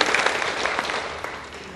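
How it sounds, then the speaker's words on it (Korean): A church congregation claps together in a sustained burst of welcoming applause, dense and steady throughout, with no talk over it. "축복의 박수, 환영의 박수 한번 해주시기 바랍니다"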